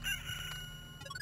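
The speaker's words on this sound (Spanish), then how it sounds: "Estúpido gallo." A rooster crows once in the video game Loop Hero, a quiet, drawn-out cock-a-doodle-doo over game background sound.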